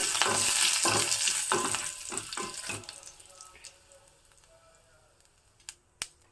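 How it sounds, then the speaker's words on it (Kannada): Curry leaves go into hot oil in a frying pan for a traditional Sankethi dish, giving an intense, crackling sizzle with sputtering bursts that fades over about three seconds into a quiet simmer with a couple of sharp clicks. "ನೆಕ್ಸ್ಟ್ ನೋಡಿ ಕರಿಬೇವನ್ನು ಹಾಕ್ತಾ ಇದ್ದೀನಿ"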